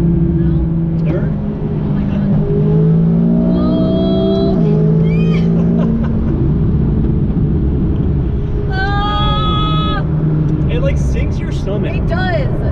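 A McLaren 570S on a fourth-gear acceleration pull: the engine note climbs steadily through the revs, loud and close, with a gear change partway through and people talking over it.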